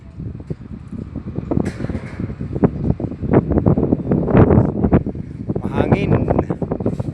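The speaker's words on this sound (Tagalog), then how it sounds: "Mahangin." Wind buffets a microphone outdoors along a street in Sinacaban, Misamis Occidental, producing loud, gusty low rumbling throughout while people talk in the background.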